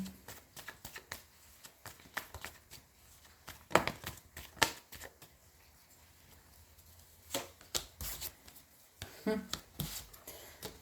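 Tarot cards are shuffled during a reading, with soft, quiet bursts of riffling and slapping that come in irregular clusters separated by near-silence.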